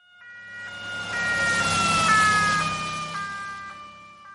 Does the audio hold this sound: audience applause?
no